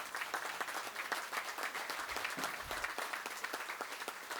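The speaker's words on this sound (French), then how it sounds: "Ils sont derrière moi, on peut peut-être les applaudir." A council meeting crowd gives steady applause for young firefighters in training, a dense, even patter of many hands clapping throughout, moderately distant in a meeting hall.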